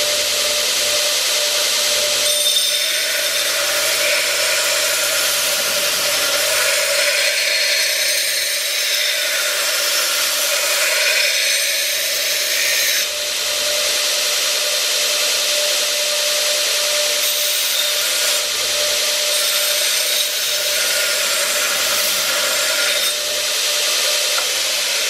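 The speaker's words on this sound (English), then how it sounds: "I'm going to show you this thing grind" A homemade belt grinder runs steadily, grinding metal with a loud, continuous abrasive hiss and a constant motor whine throughout, with no talking.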